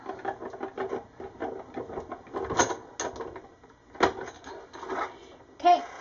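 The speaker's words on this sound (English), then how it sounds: "run this through our Cuttlebug machine" A Cuttlebug machine cranks an embossing folder with plates through its rollers, giving a rapid train of clicks and ratcheting ticks with a few louder knocks, close and fairly loud, with no talk over it.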